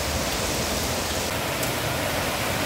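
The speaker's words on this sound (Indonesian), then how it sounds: "Hujannya gede." Heavy rain pouring down in a dense, loud, constant hiss with no breaks or other sounds.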